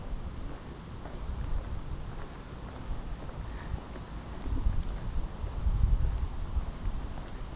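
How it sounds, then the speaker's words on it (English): Breezy outdoor wind on a residential street, a steady low rumbling buffet against the microphone that swells and gusts louder toward the end, with faint rustling and no talking. "And it's nice and breezy out."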